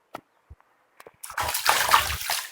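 Water sloshes and splashes inside a rainwater cistern filled after a night of heavy rain, opening with a few sparse knocks and drips before a loud, sustained splashing burst.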